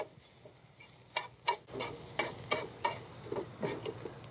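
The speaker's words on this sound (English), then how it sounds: "they don't need long mushrooms, just to saute them off" Mushrooms sautéing in a pan for a venison dish, soft steady sizzle broken by a string of quiet, regular scrapes and taps as they are tossed and stirred, fairly faint overall.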